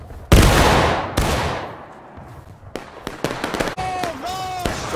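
A company's musket volley in War of Rights rings out as one sharp, loud crack that echoes away. A second, smaller blast follows, then scattered shots and shouting voices.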